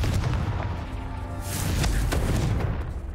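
A Confringo fire spell blast from the Hogwarts Legacy video game: a booming burst with a crackling explosive tail that rings out over a steady low rumble.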